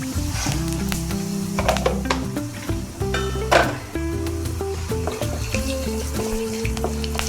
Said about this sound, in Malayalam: അതിലേക്ക് 2 ഏലക്ക, 2 ഗ്രാമ്പൂ, ഒരു പിഞ്ചളവിൽ പെരിഞ്ചീരകം,